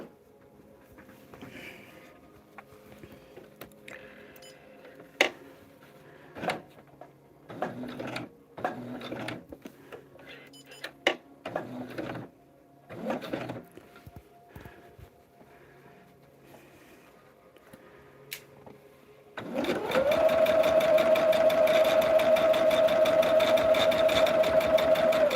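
Sewing machine joining star-patterned table runner pieces, starting after a stretch of quiet handling clicks and rustles, then running loud, steady and continuous close by to the end.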